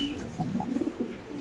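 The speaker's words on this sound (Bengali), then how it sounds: "খুব সুন্দর একটা জোড়া কবুতর দেখতে পাচ্ছেন।" A pair of red Lahori fancy pigeons coo softly nearby in a short burst of low, rounded calls, with light ambient noise underneath.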